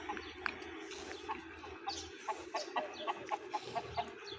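Chickens resembling the local Ethiopian Habesha breed cluck in a steady run of short, repeated calls at moderate distance over a low background hum, with no talk.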